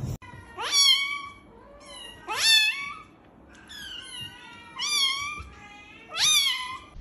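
A cat meows four times at even intervals, each call rising and falling in pitch, fairly close and clear against a quiet room with no talking.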